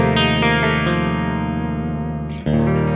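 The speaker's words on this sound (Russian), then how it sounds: "Итак, послушаем, как звучит педаль при таком положении ручек." Electric guitar played through a ZVex Box of Rock distortion pedal, thick sustained distorted chords ringing loud and alone, with a fresh strummed chord near the end.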